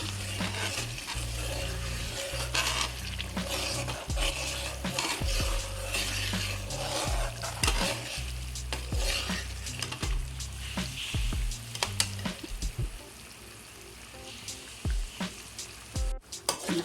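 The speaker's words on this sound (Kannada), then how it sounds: "ಸಣ್ಣ ಉರಿಯಲ್ಲಿ ನೋಡಿ ಇದನ್ನು ಬಿಸಿ ಮಾಡ್ತಾ ಇದ್ದೇನೆ ಇದು ಒಳ್ಳೆ ಕುದಿಯುತ್ತಾ ಇದೆ" Homemade hair oil boiling over a low flame in a pan, steady sizzling and bubbling throughout with occasional small pops and stirring scrapes, no talking.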